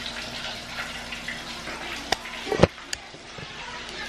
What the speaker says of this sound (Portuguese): Aí tô terminando de fritar o peixinho.